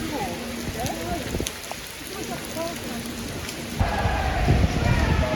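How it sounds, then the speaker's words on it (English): Heavy rain pours down and drums on surfaces outdoors at a football match, a dense steady hiss that swells louder toward the end, with voices talking underneath. "It rained that bad."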